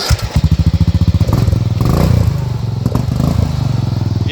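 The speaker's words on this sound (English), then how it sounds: "Let's hear that exhaust." Off-road lawnmower with a welded differential and modified exhaust starts up with a burst of rapid, regular putting pulses, then settles into a loud, rough, clattering idle close by.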